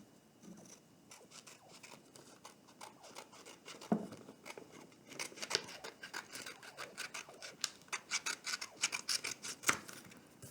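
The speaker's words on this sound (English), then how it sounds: "go ahead and cut off this excess paper" Scissors snipping through excess origami paper, a close, quiet run of crisp cuts and paper rustles that grows busier and more rhythmic toward the end.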